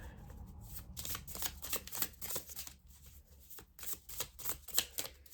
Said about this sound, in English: I'm going to pull you some Whispering Woods cards as well